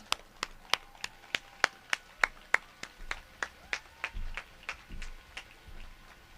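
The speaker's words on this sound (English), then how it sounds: "let's give them the biggest, most heartfelt round of applause" At an outdoor ALS charity walk, sharp individual claps ring out in a steady, even rhythm, sounding like only a few hands, fairly faint and spaced about a third of a second apart.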